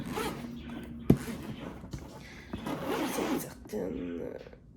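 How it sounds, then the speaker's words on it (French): A zipper on a solid pink suitcase is pulled open in several rough, rasping runs with a sharp tug near the start. It sounds close and loud, with some handling noise mixed in. "Il y a un zip ici. Je vais l'ouvrir."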